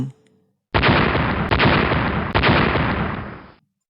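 A sudden loud, rumbling blast erupts after a brief quiet, sustaining a roaring boom with a couple of sharp cracks before cutting off abruptly.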